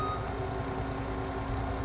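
Steady electronic reversing beeps from a backing truck in Farming Simulator 25, a constant tonal warning over engine drone, even and unbroken throughout.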